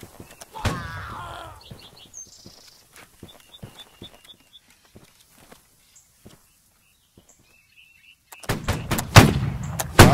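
Massed musket volley in Holdfast, a Napoleonic-era line battle game: a loud, dense crackling burst of many shots fires near the end, while sparse single shots and footsteps sound faintly earlier and brief voices are heard.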